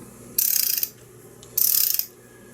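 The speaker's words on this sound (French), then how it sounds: "sur cette barre-là, il y a un système de cliquet" A breaker bar's ratchet mechanism clicks rapidly in two short, close bursts of fast metallic ticking, each lasting about half a second and separated by a brief quiet gap.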